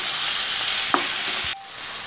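Crushed ginger, garlic and green chili sauté in a hot pan for Malabar chicken biryani with a loud, steady sizzle, broken by a single stirring knock, then the frying dies down abruptly.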